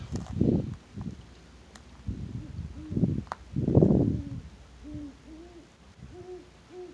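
A pair of owls in a tree hoot in a series of low, rounded calls, some deeper and louder, others softer and higher, spaced irregularly against a quiet outdoor background.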